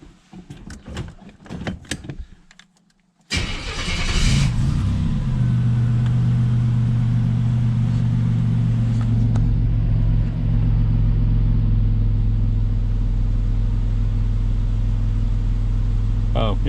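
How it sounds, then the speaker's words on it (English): A 1987 Buick Grand National engine cranks and fires up, then settles into a steady, loud, low rumbling idle after a few quieter clicks and rustles. "I'm going to go ahead and fire up the car again"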